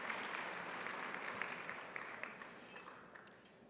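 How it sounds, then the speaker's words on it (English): An audience at a business breakfast at the Boca Resort applauds a vocalist and keyboardist with a dense, sustained burst of clapping that gradually thins and fades over a few seconds. "well-deserved round of applause."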